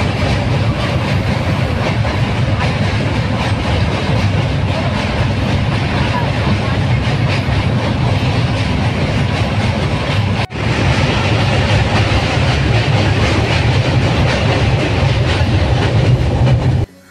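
A train rumbles across the Hardinge Bridge at Paksey with loud, continuous rolling clatter and rhythmic wheel clicks. Voices can be heard under the noise.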